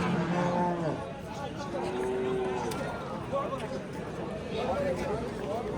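Cows and young bulls low at the Angren livestock bazaar, several drawn-out moos rising over a busy, noisy market bed with people talking in the background.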